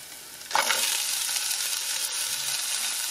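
Frozen green beans, corn, peas and onion tumble into a hot pan with a sudden burst of sizzling at about half a second, settling into a steady loud frying hiss that carries on to the end, with no talk.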